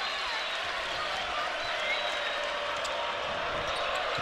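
A college basketball arena crowd at a Utah State vs Boise State game gives a steady, loud roar of cheering and applause for a player leaving the court, a sustained wash with no break.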